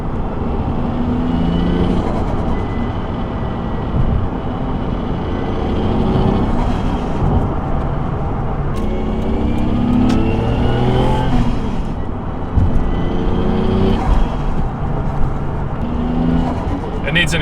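A Toyota Chaser JZX100 turbo on its stock exhaust drives through busy shopping-center traffic, a low, truck-like engine drone from inside the car with occasional revs rising and falling.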